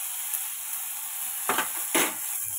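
Garlic paste hitting hot oil in a pan of pointed gourd, giving a steady close hiss with two sharp bursts of spluttering sizzle near the end, no voices.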